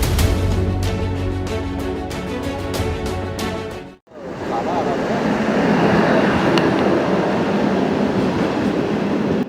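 A train pulls in at night at Balaghat railway station, its loud rolling rumble and rhythmic wheel clatter running steadily up close, with a sharp dip partway before the noise returns as a broad, continuous roar.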